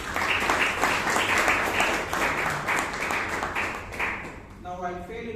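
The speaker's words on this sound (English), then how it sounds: "Give her a big round of applause." Members of a Toastmasters club meeting give a big round of applause for the woman who led the session, hearty group clapping that tapers near the end as a speaking voice comes in.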